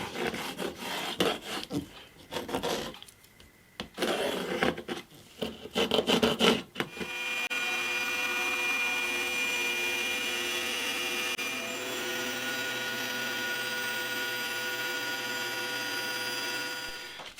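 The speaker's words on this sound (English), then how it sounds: "I think my blade's getting a bit dull because it got a bit burnt when I cut that piece then" A saw blade slicing through a piece of wood for a scratch-built bass guitar body, a harsh rasping, grinding cut with uneven bursts that gives way to a long, steady motor whine, loud and close.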